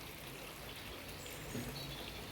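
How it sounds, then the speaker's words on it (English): Water flows steadily at the White Spring in Glastonbury, a faint, continuous rushing and trickling wash with no voices over it. "Hopefully you can hear me over all the water flowing"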